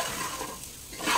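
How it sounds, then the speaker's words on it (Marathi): Salted wada kolam rice dry-roasting in a pan, a steady close scraping and stirring rustle with a soft sizzle that swells louder toward the end, no voices. "हा आपण तांदूळ भाजतो आहोत"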